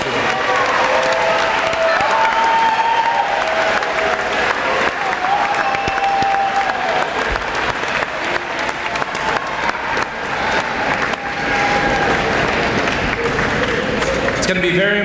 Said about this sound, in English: give them a round of applause for supporting you for the past 4 years at Mountain View Middle School